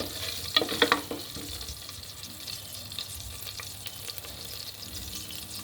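A spoon stirring fennel seeds and a couple of cinnamon pieces in hot oil in a frying pan for masala dosa filling, with a brief cluster of scraping clinks early on and a steady low sizzle throughout.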